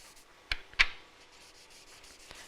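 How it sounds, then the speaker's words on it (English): Gentle rubbing strokes across a poinsettia craft project, two brief, soft scuffs close together near the start, then quiet, faint surface noise. "I'm just going to give that a little gentle rub across because I just want to pick those little bits up there"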